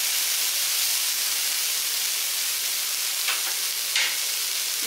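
Sprouts sautéing in a little oil, giving a steady soft sizzle and hiss throughout with a couple of brief stirring scrapes near the end.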